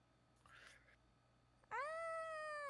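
A cat lets out a loud, drawn-out meow that starts suddenly after a quieter stretch with faint background sound and a little muffled talk.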